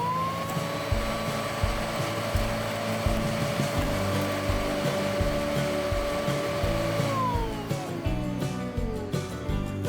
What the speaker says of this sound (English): The vacuum function is understandably louder, but that's required to suck up all your home's dust and dirt